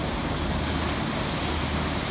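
Ocean waves rolling in at a crowded Kamakura surf beach, a steady broad roar of surf with wind buffeting the microphone, constant and fairly loud with no voices.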